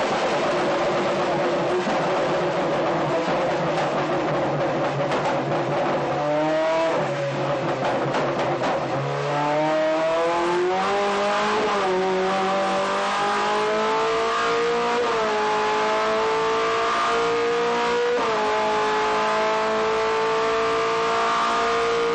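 Toyota TS020 GT-One Le Mans race car's V8 engine revving on a stand, a loud, steady howl that climbs in pitch through several rising sweeps and then holds high and sustained, with no talk over it.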